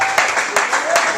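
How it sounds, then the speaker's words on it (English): Applause for an elder honoured at a birthday party and fundraiser, a short burst of hand clapping with a few sharper claps rising above a broad noisy wash, with voices mixed in. "Let's give Brother Jitu Weusi a big hand clap"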